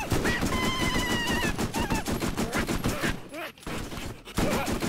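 Rapid automatic gunfire from the Borderlands shooter game, dense repeated shots rattling steadily for several seconds amid game music and effects, with a brief dip before the firing resumes.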